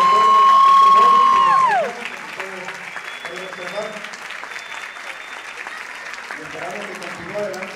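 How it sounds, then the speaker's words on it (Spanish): Audience applause fills a theatre after a school concert band performance, steady and sustained clapping from a large crowd, with a sustained tone fading out at the start and some talk mixed in. "Pero queremos que nos aplaudan"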